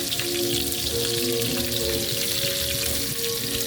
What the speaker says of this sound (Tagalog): Magpiprito na po tayo ng isda.